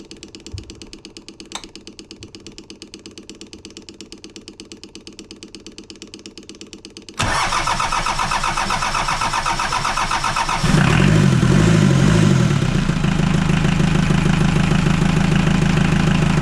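A 1990 Mitsubishi Pajero diesel engine cranks with a steady rhythmic whirr, catches abruptly and settles into a loud, clattering idle that rises in level near the end, close by with no talk.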